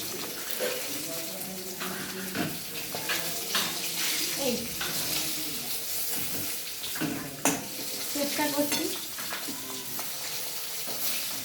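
Fish fries in a pan, a steady close sizzle with intermittent scraping and stirring clatter running throughout.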